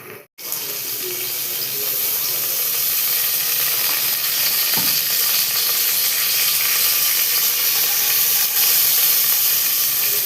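Mustard seeds, a spoonful, crackle and sizzle in hot oil for a mushroom curry, a steady loud hiss running throughout with no talk.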